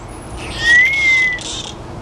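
Captive dolphins at a dolphin research center give a short, fairly loud rising and steady whistle with faint high chirps, heard alone against a quiet background.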